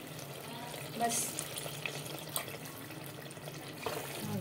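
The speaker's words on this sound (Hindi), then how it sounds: "उसके अंदर हमने 1/2 कप पानी डाल देंगे" Half a cup of water is poured into chicken liver cooking in a pan, a soft splash and hiss under quiet kitchen sounds, with a voice speaking briefly.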